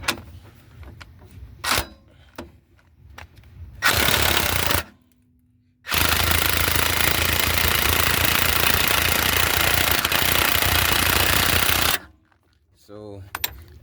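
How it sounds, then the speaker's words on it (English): Work on a 2015 Dodge Durango Citadel 3.6L steering knuckle brings scattered metallic hits, then long loud bursts of harsh rattling machine noise, with quieter gaps between them. "we can hit on this with the hammer some, but we can also beat on the top with no problem"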